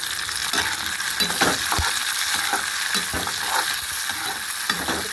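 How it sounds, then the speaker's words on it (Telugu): Onions, green chillies and curry leaves fry in hot oil for a curry made with raw mango and brinjal. A loud, steady sizzle fills the clip, broken by repeated close stirring scrapes, with no voices. "ఇది ఫ్రై చేసేసుకోవాలి ఇలాగా ఆయిల్లో ఫ్రై తర్వాత పచ్చిమిరపకాయలు కూడా వేసేసుకున్నాను"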